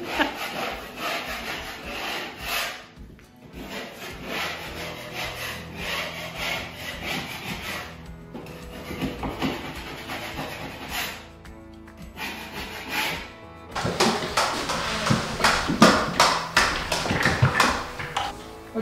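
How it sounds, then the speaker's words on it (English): Wood being scraped by hand during an old farmhouse renovation, with repeated rhythmic rasping strokes, close and fairly loud, briefly pausing and then growing more vigorous toward the end. "Keep scraping."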